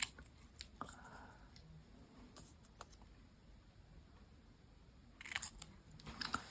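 Scissors snip through an altered playing card in a mixed media craft project, a few faint, brief cuts spread apart over quiet room noise, with a cluster of sharper snips near the end.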